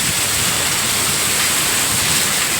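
Heavy unseasonal rain driven by strong storm wind, a dense, loud, continuous roar of rainfall and gusts with no breaks and no voices.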